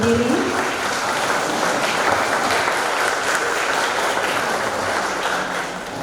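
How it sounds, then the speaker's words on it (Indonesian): A crowd at a job-opportunities outreach event in a church hall gives loud, sustained applause to welcome a guest, a dense continuous clatter of many hands that eases slightly at the end. "Kita sambut dengan tepuk tangan dan diundang untuk berdiri."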